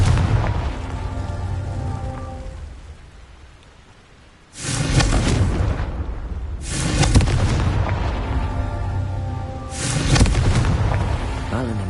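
Confringo explosion spells cast in the Hogwarts Legacy video game, three loud, booming blasts with crackling, rumbling tails, arriving in sequence a few seconds apart over a steady ambient drone.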